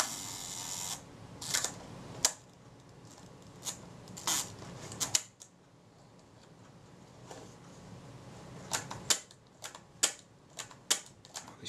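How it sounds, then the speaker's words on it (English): Shutter of a pre-war Zeiss Ikon Super Ikonta folding camera being cocked and fired during servicing, a series of sharp close mechanical clicks and snaps in irregular clusters, with quiet handling noise between them and no talking. "The shutter appears to be working."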